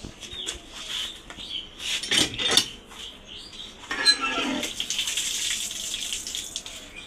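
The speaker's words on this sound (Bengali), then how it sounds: "সর্বপ্রথম আগে ঘুঘুর পানিটা আগে দেই।" Water being poured into a dove's drinking container at home, with light clinks of a container and short trickling splashes in bursts, fairly close and quiet with no talk.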